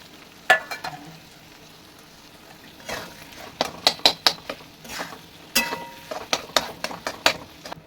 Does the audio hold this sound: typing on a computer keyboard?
no